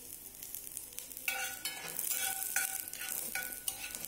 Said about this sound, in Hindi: फिर इसमें डालेंगे हम लहसुन, इसको थोड़ा सा फ्राई करेंगे